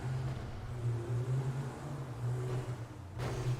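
A steady Grand Theft Auto V car engine drones throughout at a moderate level, with a low humming tone and a brief rise in noise near the end.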